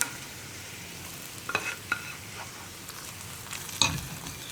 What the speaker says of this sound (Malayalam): ഇനി നമുക്ക് ഈ വറവ് റെഡിയാക്കിയത് നമ്മുടെ കറിയിലേക്ക് ആഡ് ചെയ്ത് കൊടുക്കാം